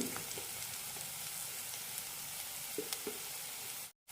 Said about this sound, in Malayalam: ഒരു ടീസ്പൂൺ മുളക് പൊടി നന്നായി വഴറ്റി കൊടുക്കാം